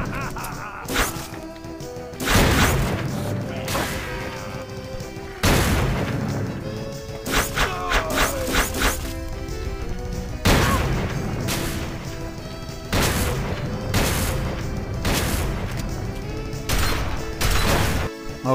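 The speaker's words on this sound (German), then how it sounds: "noch zwei Schuss aus meiner Schrotwumme und das nächste ist weg" Shotgun blasts in the video game Fallout 3, several heavy booming shots spaced a few seconds apart with crashing impacts and game action noise between them, loud and close.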